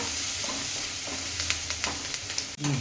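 Onion frying in a pan for an okra and potato fry, a steady close sizzle with light spatula scrapes and ticks toward the end, no voices.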